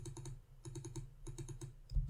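Typing a SQL query on a computer keyboard: quick bursts of close key clicks in small clusters with brief pauses, ending in a heavier keystroke.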